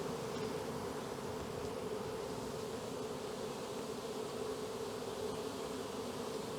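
A swarm of honey bees buzzes in a backyard, a dense, steady droning hum that fills the whole stretch without a break and with no voices.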